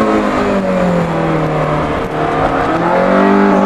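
A Lotus S1 with a Honda K20a engine taking a tight second-gear corner on a road, its loud, close engine note holding steady, dipping briefly mid-turn and then climbing again as it pulls out.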